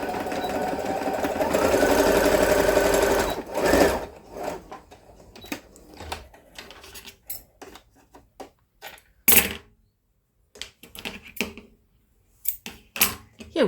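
A sewing machine stitches elastic into a headband made from a scarf, starting with a long steady whir and then running in short, rapid bursts separated by pauses, close and clear.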